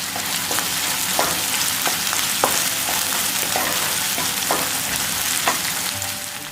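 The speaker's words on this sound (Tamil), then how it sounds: "இப்போ இஞ்சி பூண்டு நல்லா வதங்கிடுச்சு" Ginger garlic paste sautéing with onions in a pan for idiyappam kothu, a steady loud sizzle running throughout with scattered clicks of stirring.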